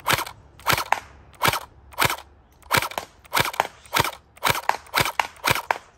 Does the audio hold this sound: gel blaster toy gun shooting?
yes